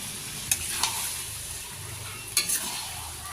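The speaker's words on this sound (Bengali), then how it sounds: "আমি মাংসটাকে একটু ভালো করে এখন কষিয়ে নেব।" Mutton for a curry sizzles steadily in a hot pan as it is stir-fried, with a few sharp scraping stirs of the spoon standing out over the constant close frying hiss.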